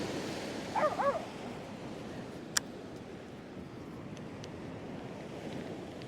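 Dog barking a few times on a pebbly seaside beach in early autumn, the brief yaps set against a constant wash of surf and wind, with a single sharp click later and nobody talking.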